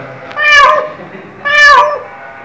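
A pet cat meows twice in quick succession, each cry rising then falling, loud and close with only faint room noise between the calls.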